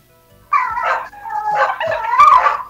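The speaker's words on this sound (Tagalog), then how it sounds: "Nagagalit ang aso, eh." An angry dog barks and growls close by, giving several loud, harsh bursts that run almost together over a few seconds.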